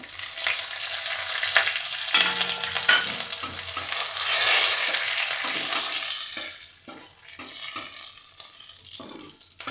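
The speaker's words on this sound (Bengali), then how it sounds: "এবার এই কড়াই দিয়ে দেবো আমি তেজপাতা, জিরে আর গরম মশলা ফোড়ন।" Bay leaf, cumin and garam masala frying in hot oil in a wok, a steady close sizzle that swells in the middle and then thins to scattered crackles and pops.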